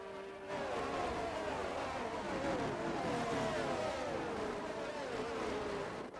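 Race car engines at the Bahrain Grand Prix in a sim racing series, a steady loud drone of several motors with rising and falling pitch sweeps as the cars fight closely together, continuous with no talk.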